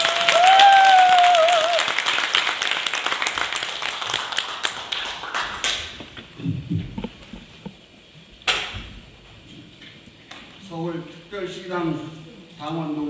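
Applause from a crowd welcoming a speaker at a Seoul party founding convention, a dense burst of clapping in the first seconds that fades out as the room quiets and a voice begins to speak.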